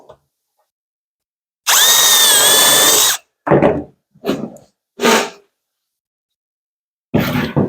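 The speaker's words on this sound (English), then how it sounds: "I'm just going to flush this corner up and put a screw in" A power drill whines in one long burst, then several short pulses follow as a screw is driven into plywood, separated by brief silences.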